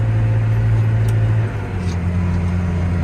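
A John Deere tractor engine lugs and drones in a high gear at about eight miles an hour, a loud, low, steady strain that dips slightly in pitch midway.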